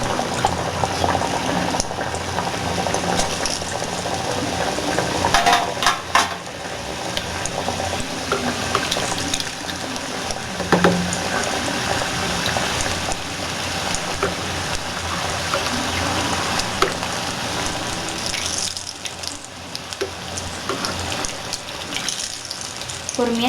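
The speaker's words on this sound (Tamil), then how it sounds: "இப்போ எண்ணெயில் போட்டு இதை நம்ம பொரிச்சு எடுக்க போகிறோம்" Fish-shaped wheat flour poori fries in hot oil in a home kitchen, with a continuous bubbling sizzle and small crackles that stay steady and close throughout.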